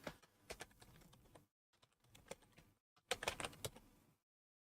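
Rapid keystrokes on a computer keyboard while a search is entered, coming in three short bursts with brief pauses between them, close and fairly quiet, with no voices.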